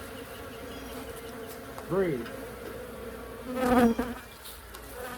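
Honeybees buzzing as two Layens hive colonies are combined, a steady close hum with individual bees swooping loudly past twice, and a brief word spoken over it.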